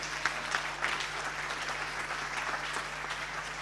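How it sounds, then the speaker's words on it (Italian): Applause at a Paralympic sports gala in Veneto honoring an athlete, a continuous even clapping from a seated audience with a few louder individual claps early on and a faint low hum beneath. "Un grande applauso per Mario Alberto Bertolaso di Aspea Padova Onlus"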